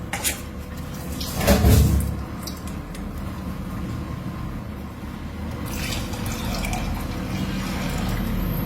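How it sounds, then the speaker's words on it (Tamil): A steady stream of water pours close by into a pressure cooker holding lentils, with a brief knock early on and a continuous liquid rush throughout. "பருப்பு முழுகிற அளவுக்கு தண்ணி சேர்த்துக்கலாம்."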